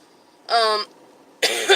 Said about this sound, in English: I still have the lingering cough